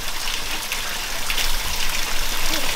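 A mountain stream flows nearby, a steady dense rush and gurgle of water that stays even from start to finish.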